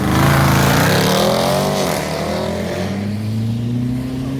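Dodge Durango SRT six-seat SUV engine and exhaust revving hard, a loud deep roar that climbs and then settles into a sustained high drone, heard up close with no talk.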